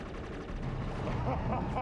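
Gunshots in the Inversion video game: a dense, continuous burst of rapid gunfire under shouted game dialogue, loud and steady for the whole short stretch.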